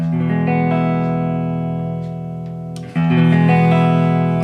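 A sustained, distorted chord on a 2014 Gibson Les Paul Standard with the treble capacitor bypassed rings out and fades slightly, then is struck again with a bright, full attack; no speech.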